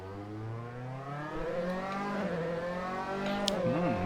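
A race car engine in the Assetto Corsa driving game revs and climbs steadily through the gears, with a rising whine and a brief dip and surge near the end, moderately quiet and with no talking.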